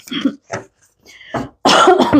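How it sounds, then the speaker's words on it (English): Several close, harsh coughs in quick succession from a person getting over a respiratory infection, ending in a louder, longer throaty cough. "I'm going to be coughing a lot like that"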